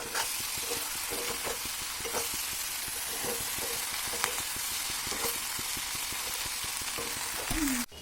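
Kundu (ivy gourd) frying in a pan, giving a constant dense sizzle like rain on a surface, with small crackles and stirring clicks throughout and a brief scrape near the end.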